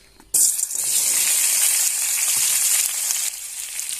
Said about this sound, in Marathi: आपण कढई ठेवून घेतली आणि भेंडी चिरून घेतली तळून घेऊया